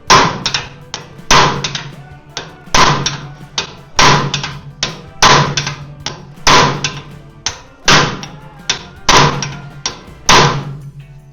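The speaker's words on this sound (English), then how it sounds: "we're going to just try to break this loose with our manual impact driver" A hammer drives a manual impact driver against a stuck frame bolt on a Yamaha YFZ450R ATV. About ten loud, heavy metallic blows land at a steady rhythm, each ringing briefly before the next.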